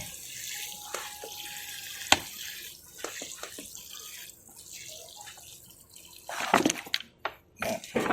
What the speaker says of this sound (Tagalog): ang gagawin natin ay babasain ng tubig.